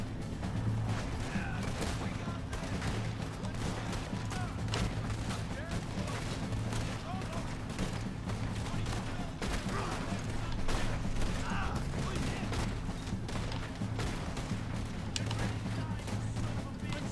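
Gunfire in the Red Dead Redemption 2 video game crackles in repeated sharp shots over a steady hum of game sound, spread across the scene with occasional clustered bursts.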